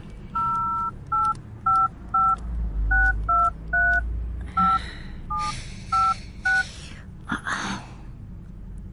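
Someone dials a taxi company's number on a telephone keypad, about a dozen evenly spaced touch-tone beeps in a quick series, followed by breathing and faint rustling nearby.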